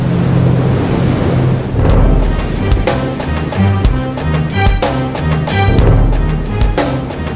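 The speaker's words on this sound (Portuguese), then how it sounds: "Em alto mar, navios e plataformas conectados a poços de petróleo são castigados incessantemente por ondas, ventos e correnteza." Rough open-sea waves crash and surge against ships and offshore oil platforms while wind roars across the microphone, a loud continuous churning broken by heavier breaking swells.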